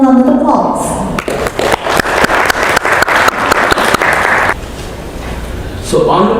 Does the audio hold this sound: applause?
yes